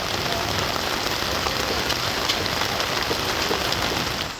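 Heavy rain pours steadily over the Periyakulam area of Tamil Nadu, a dense, unbroken hiss of drops on surfaces that stays loud and even throughout, with no voices.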